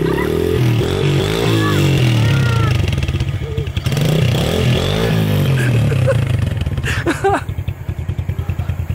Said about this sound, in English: You got scared of the motorcycle?